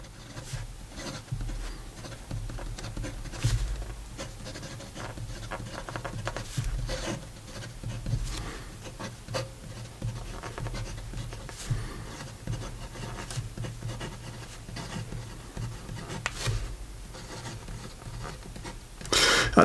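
An ASC Bologna Arco fountain pen writes on paper, giving a steady soft scratch and rub of the nib with short strokes and small pauses, close and quiet, with no talk.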